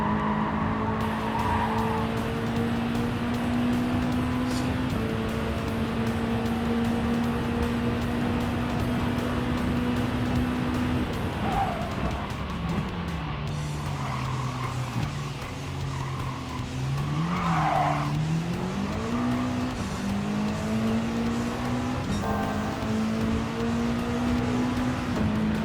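A race car cornering at speed in Gran Turismo 7, its loud engine holding a continuous whine that sags through the bend and climbs again, with tire squeal and skidding noise over it.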